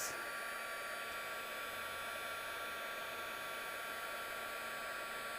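A heat embossing tool blowing hot air over green embossing powder on a floral card, a constant loud whooshing hum like a hair dryer that runs steadily throughout without talk.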